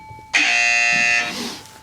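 A game buzzer on a tabletop quiz set sounds once, loud and close, a harsh sustained electronic tone lasting about a second before cutting off, alone with no talking.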